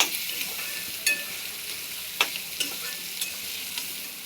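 Vagharela pav is stirred and mixed in a frying pan, a soft continuous sizzle broken by several sharp scrapes and taps of the spoon, close and fairly quiet.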